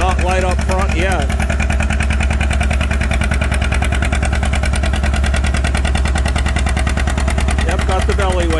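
Antique John Deere 620 tractor at a tractor pull, its engine roaring steadily and loud with a fast pulsing throb throughout, while announcers talk over it.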